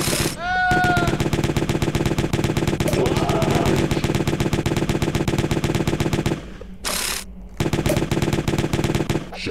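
Cork launcher in the game Jazzpunk firing in rapid, continuous bursts like an automatic weapon, loud and close, with brief pauses and a short tone near the start.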